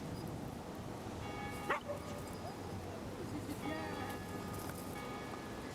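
A dog being trained to bark on command gives a single short yip, then a few faint whimpers and a soft bark follow over a steady background hum.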